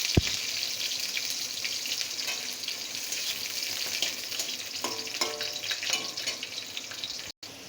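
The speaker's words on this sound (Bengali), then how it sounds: "এটা এখন একটু লাল লাল করে ভেজে নেব রসুন আর কাঁচা লঙ্কা।" Garlic and green chillies fry in hot oil in a pan, a loud, steady close sizzle with occasional stirring scrapes and crackles and no one talking, cut off by a brief dropout near the end.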